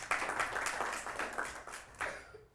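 Children clapping for themselves at a scouting quiz, a short burst of scattered applause from a small group, fairly close and fading out near the end.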